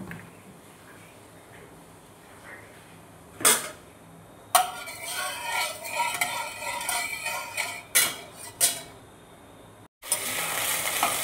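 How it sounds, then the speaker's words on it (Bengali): Chicken meat sizzles in mustard oil in a wok, a hiss that swells and fades with stirring, broken by sharp metal scrapes and clanks of the utensil against the pan, up close with no voices. "মাংসটা ভেজে নেব"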